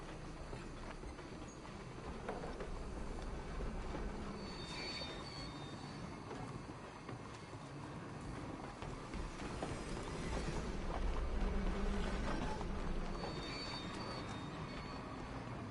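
A train about to depart: railway noise with squealing wheels, hissing and clanking that stays steady and fairly loud throughout, with faint hoof-like clops mixed in and no speech.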